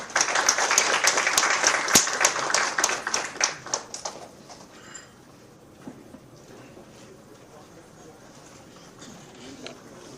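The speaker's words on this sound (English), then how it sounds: "can we also give a round of applause to them?" Applause breaks out from the audience at an international press conference in Taiwan: a brief round of clapping for the first four seconds that quickly fades to quiet room tone with scattered sounds.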